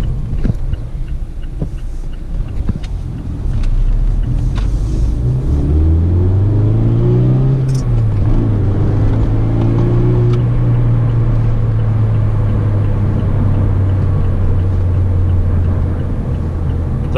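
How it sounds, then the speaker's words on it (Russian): Mazda MX-5 engine driving off, a close loud rumble that rises in pitch as it accelerates, then settles into a steady drone while cruising. "двигатель довольно шумный"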